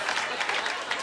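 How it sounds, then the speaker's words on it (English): Comedy club audience applause, a brief burst of many hands clapping with some crowd noise. "Don't applaud that."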